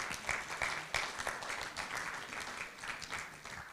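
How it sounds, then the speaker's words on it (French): A conference audience at a geology talk on the Terres d'Hérault geopark claps for the speaker, a brief, fairly faint burst of mixed hand claps from across the room. "je crois qu'on peut l'applaudir"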